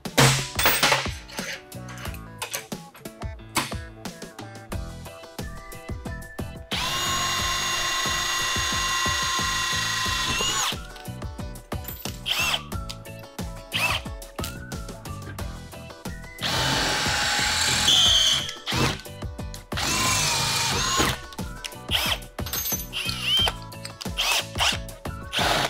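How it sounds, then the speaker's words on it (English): A power drill boring a quarter-inch hole runs in two sustained bursts of high whining, separated by clicks, clatter and handling noises close by. "So first thing we're going to do, drill a hole,"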